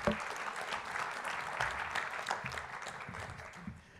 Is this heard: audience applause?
yes